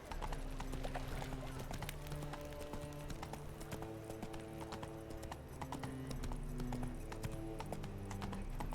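Roach, a horse in The Witcher 3 video game, canters with steady rhythmic clip-clop hoofbeats over a continuous game soundscape, with occasional tonal music layers and a brief neigh.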